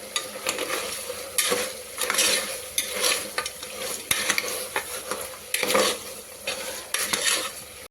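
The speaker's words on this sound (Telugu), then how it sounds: "ఇప్పుడు దీంట్లో ఒక 1 టేబుల్ స్పూన్ అల్లం వెల్లుల్లి పేస్ట్ వేసుకొని ఫ్రై చేసుకోవాలి" Ginger garlic paste frying in a pan for a methi mutton curry, a dense sizzle broken by repeated rhythmic scraping strokes of a spoon against the pan, close and loud.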